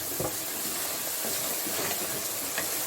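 Salt, Kashmiri chili, red chili powder and turmeric frying in hot oil for a lobia curry, a steady soft sizzle with occasional stirring scrapes, close and continuous with no talk.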